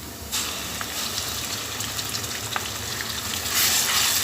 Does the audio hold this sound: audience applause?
no